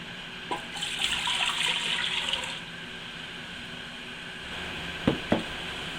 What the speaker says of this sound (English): My next step is I'm going to start with 3 cups of vinegar.